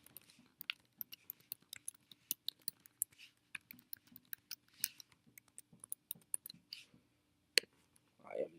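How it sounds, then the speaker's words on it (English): Username and password typed on a computer keyboard, a quiet run of irregular close key clicks with short pauses, ending in a firmer tap and brief rustle. "So let me go ahead and type this in real quick."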